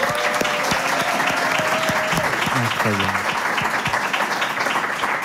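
Studio audience applause for a guest's entrance on a French comedy quiz show, steady dense clapping throughout with a voice briefly speaking over it and some tonal sounds early on.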